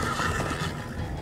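A stubborn horse in Minecraft Story Mode lets out a rough, moderately loud whinny lasting about a second against a busy game background.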